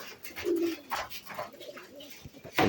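Pigeons cooing inside a loft in poor condition, several soft throaty coos and rustles rising and falling, fairly close and quiet, with no talk.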